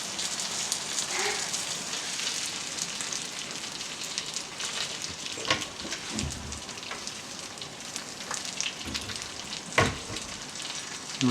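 Dumplings pan-frying as the last water cooks off give a steady, dense sizzle and crackle with scattered pops, close and continuous, with no talking.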